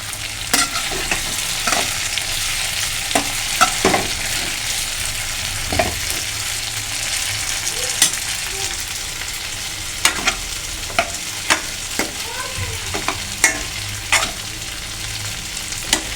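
Meat and elephant foot yam pieces with pepper powder sizzle and fry in a pan, with repeated sharp scraping strokes of a spoon stirring at irregular intervals over a steady close frying hiss; no voices.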